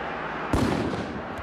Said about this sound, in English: You guys are gonna set off bombs and shit to try and scare us off.